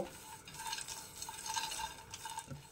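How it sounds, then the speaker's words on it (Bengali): About two spoonfuls of white sesame seeds roast in a pan, giving a faint, close sizzle broken by repeated light scraping of a spoon stirring them around. "2 চামচ মতো সাদা তিল দিয়ে আমি এটাকে হালকা রোস্ট করব"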